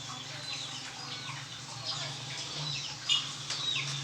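Chickens cluck and squawk intermittently at moderate distance, with a short sharp call near the end, over a steady low hum.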